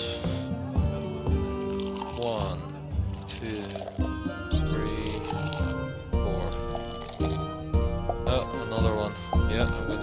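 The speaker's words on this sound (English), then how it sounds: "And then pour the mild ales." Mild ale being poured in the tavern-management video game Travellers Rest: short wet gurgles and drips, mixed with game music while a person talks over it.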